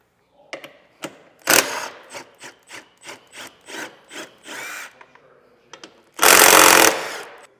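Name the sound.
removing bumper bolts with a 15mm socket on a Ford Bronco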